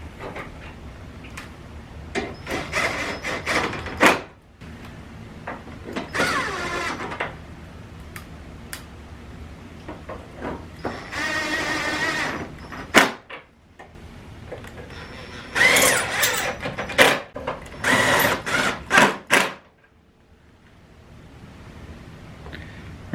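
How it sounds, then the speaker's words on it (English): Ratchet tightening headlight mounting bolts on a 2010-2015 second-generation Chevy Equinox: close, rapid clicking in repeated bursts with brief pauses between them, and no talk. "Start putting our bolts back in."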